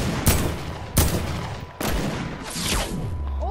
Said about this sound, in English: Oh, you just got sniped hard